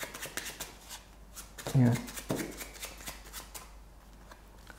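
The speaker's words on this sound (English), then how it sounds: "Do you want to shuffle them again just to make sure?" Playing cards being shuffled by hand during a close-up mind-reading magic routine, a few quick riffling bursts at close range, with a brief spoken reply and soft talk around them.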